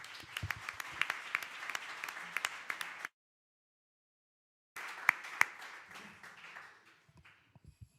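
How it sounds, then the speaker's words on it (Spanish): An audience applauding at a public talk in Spain, a dense, steady patter of many hands that cuts off abruptly, then resumes and gradually thins to scattered claps. "Un aplauso para todos."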